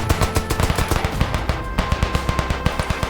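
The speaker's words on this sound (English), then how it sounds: "I manned the machine gun" A machine gun fires in the trench-warfare video game Trench War in rapid, evenly spaced bursts. The shots are loud and close and continue without a break.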